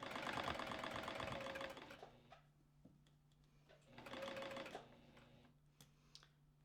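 A sewing machine stitches a tea towel dress in two bursts of rapid mechanical whirring, each a couple of seconds long, with quiet pauses and faint handling clicks between them.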